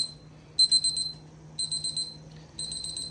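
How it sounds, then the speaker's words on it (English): An electric heater warming chain wax for a bike chain emits three clusters of sharp, high electronic beeps in a regular rhythm, clear and close over a faint steady hum. "So we just hit our target temperature. As you can hear, it's beeping."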